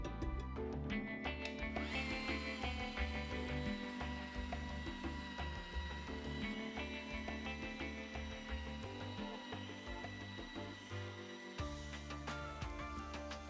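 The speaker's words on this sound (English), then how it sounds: "polish the edge manually with an angle grinder." An angle grinder polishes a granite edge with liquid polish, producing a faint, continuous whirring hum with tonal shifts as the pad presses against the stone.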